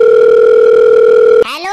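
A steady, loud telephone dial tone holds unbroken for over a second, then cuts off abruptly into a short burst of rising electronic tones as a call is placed.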